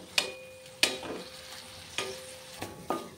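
Several spoon scrapes and stirs in a pan of tender radish ghonto with turmeric, salt and a little sugar, cooking down to dry off its water, with a faint background sizzle and sharp metallic strokes at irregular intervals.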